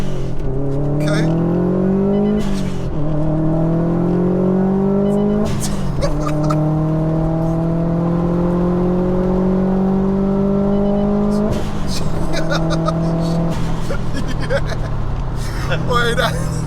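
A tuned 488bhp Subaru WRX STI revs hard and close in a loud, sustained engine drone that climbs in pitch through several stages, with sharp wastegate and dump-valve bursts at each break.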